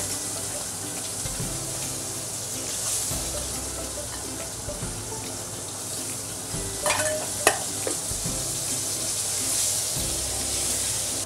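Potatoes fry in a pan with five-spice and green chilli, giving a steady close sizzle under repeated stirring scrapes and a few clinks, with no talking.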